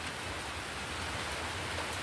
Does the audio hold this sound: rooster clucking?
no